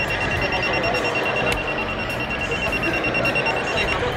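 A continuous electric buzzer on alternating current hums steadily with a high tonal whine, running without break, with a couple of faint clicks.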